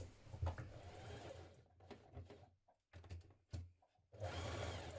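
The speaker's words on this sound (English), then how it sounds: "we're going to start stitching from your small circle here all the way around the front" Sewing machine stitching around a jumpsuit facing, short bursts of rapid mechanical whirring broken by brief pauses, then a longer steady run at the end.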